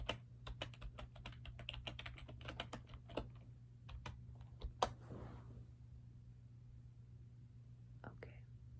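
Fingers tap out quick, irregular bursts of keystrokes on a computer keyboard, close and soft, then slow to a few isolated clicks, with faint whispery breath underneath.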